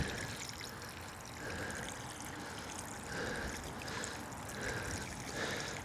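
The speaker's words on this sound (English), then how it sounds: "This is making a nice little puddle of water." Steady splashing and trickling of water pouring onto the soil around a newly planted gold cherry tree, pooling into a puddle, continuous and fairly close, with no voices.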